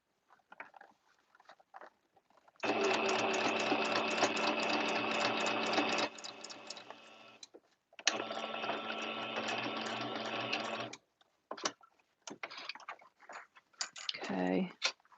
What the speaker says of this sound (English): I'm going to sew along there now.